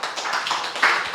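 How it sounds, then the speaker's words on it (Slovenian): A church congregation claps in applause at a Sunday service, a dense wash of hand claps spreading evenly through the room at steady loudness, with one brighter burst of claps near the end. "dajmo aplavz naši sestri"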